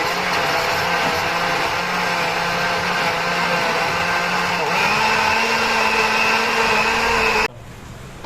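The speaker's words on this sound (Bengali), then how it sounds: "এখন আমরা এই মিক্সচারটাকে ব্লেন্ড করব।" Electric blender whirring steadily through an egg pudding mixture, loud and close, with a constant motor drone that shifts pitch slightly midway and then cuts off abruptly near the end.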